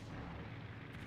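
Battleship gunfire in World of Warships, with an enemy Fuso firing at a Kongo: one brief, low, muffled boom rolling from a distance, fairly faint and heard alone.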